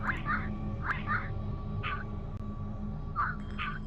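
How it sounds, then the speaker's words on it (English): Headcrab creature calls from the game Half-Life: Alyx: short chirping, squawking cries in uneven bursts of one to three, fairly close, over a low steady hum. "the head crab noises I was mentioning before were a little bit like this"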